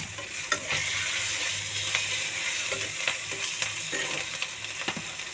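Chopped green chillies sizzling in hot oil in a pan for a fish-head and Malabar spinach dal, a continuous bright hiss with occasional stirring clicks and pops, close up and free of speech.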